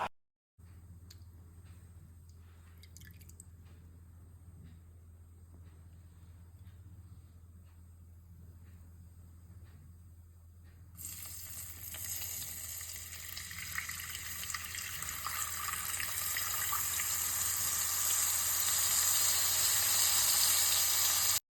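Soaked tamarind water poured into a pot of tamarind rasam; a soft steady liquid hiss builds into a louder rushing pour and bubbling over the second half, close by with no speech.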